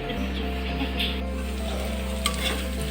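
Tomato frying in a pan with a steady, close sizzle that runs the whole time, with faint stirring and utensil clinks on top.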